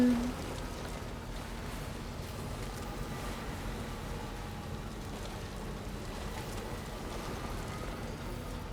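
Rain falls steadily in the video game Death Stranding 2, a soft, continuous hiss of drops on surfaces that stays faint and even across the whole stretch.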